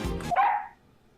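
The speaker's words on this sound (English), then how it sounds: "I wasn't expecting the dog to interrupt." A dog barks once, sharp and close, in the Ace Attorney Investigations 2 video game; the short bark stands alone and fades quickly.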